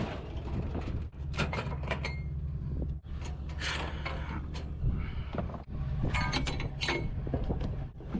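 Heavy metal gate sliding along its track, a steady grinding, creaking mechanical run with short pauses and rattles, fairly close and continuous over several seconds.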